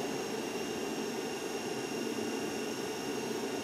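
A DC shunt generator coupled to a motor runs in an electrical machines lab, giving a steady, loud broadband whirring roar with a constant hum and no change in level throughout.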